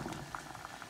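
Peanuts boil in a pot of water, giving a steady, close, continuous bubbling and popping with no voices.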